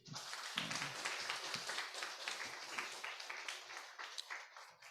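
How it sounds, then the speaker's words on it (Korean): Church congregation applauding its small-group leaders during a Korean sermon, a dense, sustained clapping from a large crowd that swells quickly and tapers off near the end. "이분들에게 박수 한번 쳐줘."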